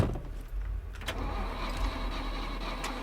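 A car engine starts in the video game SCUM: a brief cranking catch followed by the engine settling into a steady mid-pitched idle, close and fairly quiet, with no talking.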